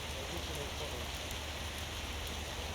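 Steady rain falls outdoors at an archaeological dig in Turkdean, a dense, even hiss of drops with no break throughout.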